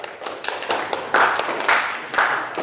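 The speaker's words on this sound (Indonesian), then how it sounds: "Tepuk tangan semuanya." A class claps hands after a group presentation, a short burst of scattered, uneven clapping nearby that rises and falls over a few seconds, with no talking over it.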